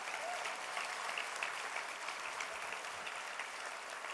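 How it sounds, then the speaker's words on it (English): Guests at a women's basketball tip-off luncheon give a round of applause, a steady, moderately distant wash of many people clapping that holds evenly throughout. "I would like for you all to give them a round of applause"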